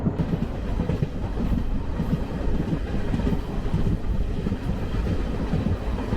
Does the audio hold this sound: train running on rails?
yes